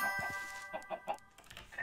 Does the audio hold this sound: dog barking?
no